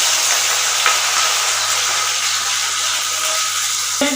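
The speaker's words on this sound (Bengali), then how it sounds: "এই তেলের মধ্যে পেঁয়াজ বাটাতে প্রথমে ছেড়ে দিলাম" Onion paste sizzles in hot oil in a pan for paneer kofta, a dense, steady, loud frying hiss throughout with a faint clack near the end.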